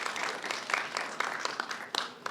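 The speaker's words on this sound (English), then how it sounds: "let's give him a round of applause" A brief patter of applause from people at a press briefing, fairly faint with scattered individual claps over a couple of seconds.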